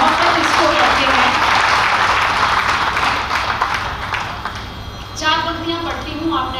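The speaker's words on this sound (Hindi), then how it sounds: "तो एक मरतबा जोरदार तालियां बजाइए" A crowd at a Hindi poetry recital applauds loudly on the host's cue, dense clapping that tapers off, followed by a held musical tone.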